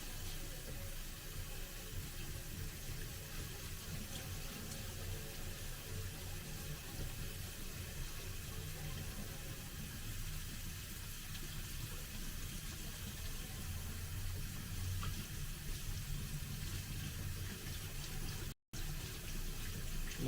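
Tap water runs steadily into a kitchen sink while potatoes are rinsed, a continuous broadband rush that holds level and close for the whole stretch with only a brief break near the end.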